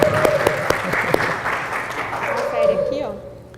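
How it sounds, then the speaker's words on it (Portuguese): An audience applauds during a talk on legal security in real estate deals, a sustained wash of clapping with a few sharp individual claps standing out, with a voice speaking over it before the clapping thins out. "Oh, palmas para..."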